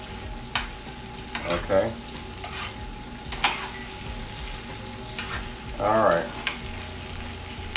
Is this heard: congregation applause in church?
no